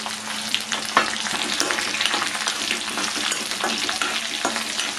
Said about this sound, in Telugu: ఇక్కడ నేను రెండుగా కట్ చేసిన ఎండుమిరపకాయలు వేస్తున్నాను.